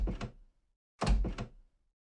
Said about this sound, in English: Upon pressing it, the door will open in whatever direction I want it to.